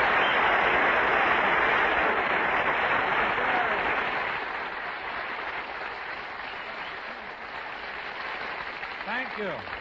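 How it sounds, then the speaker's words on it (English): Warm studio audience applause on a 1952 radio variety broadcast, loud and sustained at first, then easing to a softer ongoing patter as it winds down. "applause"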